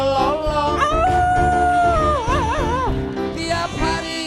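A singing voice imitates a dog's long howl, sustained wavering tones rising and bending over loud musical accompaniment, with the wavering howl repeated midway through.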